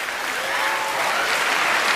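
An audience in a theatre with a dress circle applauds volunteers at a live stage show, a steady, dense wash of clapping that stays even and full for the whole stretch.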